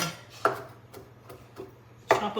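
Parsley is chopped on a cutting board with a knife, giving a few sharp, sparse knocks spaced irregularly over quiet background.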